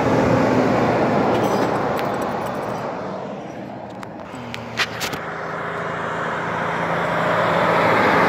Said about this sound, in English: Freightliner Cascadia coming over.